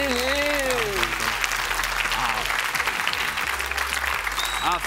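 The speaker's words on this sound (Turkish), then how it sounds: "Bu alkış yeter mi?" Studio audience applause on a Turkish talk show, steady clapping throughout with a voice and tonal sounds over it at the start.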